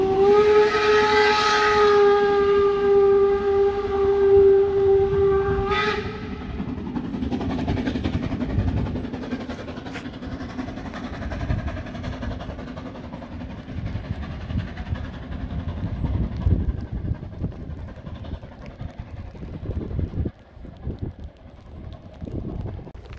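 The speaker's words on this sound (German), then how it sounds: "hier fährt noch eine ganz alte Dampflok entlang und stößt hier andauernd ihren Dampf aus" A loud steam whistle from an old steam locomotive near the Brocken sounds with a sustained, harmonic blast, followed by continuous hissing steam and rumbling train noise that fade somewhat toward the end.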